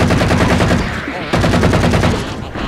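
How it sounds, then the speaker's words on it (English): Halo 4 assault rifle fires in loud, fast automatic bursts, two long streams of rapid rattling shots with a brief pause between them. "That is a very different assault rifle"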